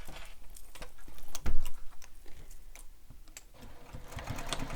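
A sewing machine runs in short bursts of rapid mechanical stitching as it top stitches around the flap of a messenger bag, close by with small clicks and pauses between runs.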